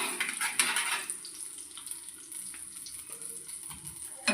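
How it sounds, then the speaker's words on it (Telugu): Mustard seeds and cumin crackling and popping in hot oil during tempering for chintamani pachadi, a sharp burst of crackle at first that settles into a quieter, steady sizzle with a few faint clinks, no voices. "చూసారా, చిటపటమంటున్నాయి."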